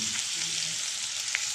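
Tomato and chopped chili fry in a pan for chilli paneer, giving a short steady sizzle with a faint stirring scrape near the end.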